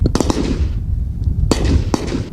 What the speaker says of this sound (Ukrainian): Майбутня еліта військ поки стріляє обережно.